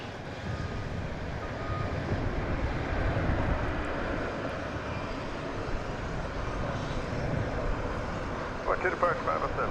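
A Boeing 747 at DFW Airport at night roars with a broad, steady engine rumble heard from a distance, holding even across the whole stretch with no voices.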